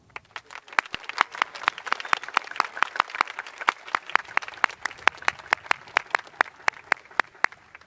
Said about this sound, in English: Would our city and county representatives please stand for a round of applause?